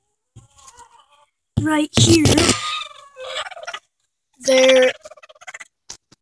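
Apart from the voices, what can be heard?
chicken clucking in a nesting box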